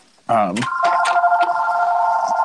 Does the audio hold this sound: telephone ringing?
yes